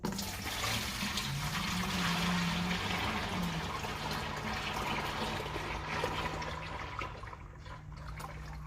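Muddy water poured out of a bucket, a continuous splashing rush that holds steady for several seconds and then thins to a trickle, close and fairly loud with no talking.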